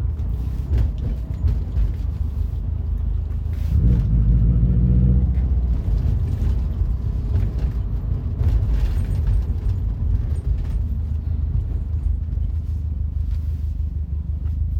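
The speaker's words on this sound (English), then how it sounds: "I'm driving through New York right now." Car driving through New York streets, continuous low rumble of engine and road noise from inside the cabin, a surge in the middle, city traffic around.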